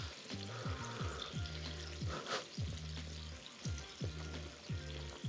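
Beef sizzles on a hot plate with a steady, moderately quiet frying hiss throughout, accompanied by a repeating rhythmic tonal pattern in the background.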